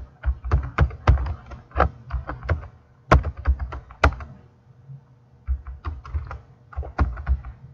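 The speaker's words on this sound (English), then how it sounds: "if you were to start typing something" Fingers type on a computer keyboard in quick, uneven bursts of close, crisp clicks and thunks, pausing briefly midway before resuming, with no talking.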